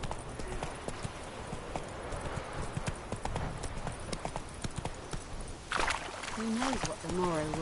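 Roach, the horse in The Witcher 3 video game, gallops in a steady clip-clop of hooves close by, while someone speaks over the hoofbeats near the end.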